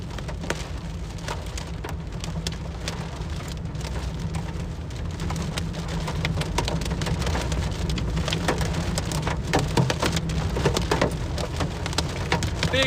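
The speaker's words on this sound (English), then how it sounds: "Big time hail here for Michigan standards" Heavy rain and hail pound on a car during a Michigan thunderstorm, a dense, steady roar of impacts with a low rumble underneath that grows slightly louder throughout.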